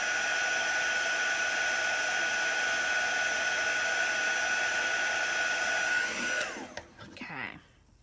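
A heat tool dries chalk paste on a transfer craft project, blowing a loud, steady whine with a bright tone that holds for about six seconds, then cuts off and sputters as it winds down.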